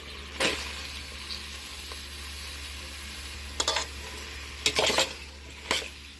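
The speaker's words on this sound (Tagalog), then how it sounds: "Haluin natin." Bottle gourd sautéing with sardines in a pan for a Filipino dish, stirred with a utensil: a steady low sizzle runs throughout, broken by several sharp scraping strokes of the spoon against the pan.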